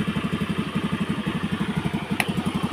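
A Honda Scoopy scooter engine runs after a repair, idling with a steady, rapid low putter and light mechanical clatter up close, with one brief sharp click near the end.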